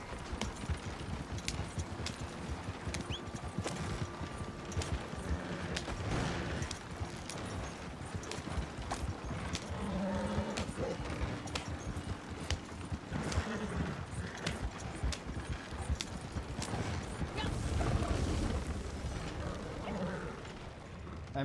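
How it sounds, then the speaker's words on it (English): Horse hooves clip-clop steadily beneath a rattling, creaking horse-drawn wagon in Red Dead Redemption 2, a continuous busy clatter of wheels and harness with occasional faint voices. "Trying to get out of here with my wagon."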